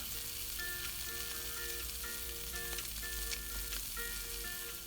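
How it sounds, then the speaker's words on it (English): Mallard duck breasts sear in a hot pan, giving a steady, close crackling sizzle throughout with faint clinks of the pan and a few brief tonal rings over the frying. "I like to move the breasts around just so that all the outside is nicely seared."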